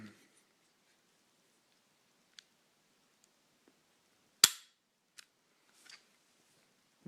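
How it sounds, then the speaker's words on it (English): Dry fire of a Beretta Nano pistol with a reworked trigger: one sharp, close mechanical click stands out in near silence, with a few faint ticks of handling before and after. "I'll start out by showing you guys the trigger pull on my gun."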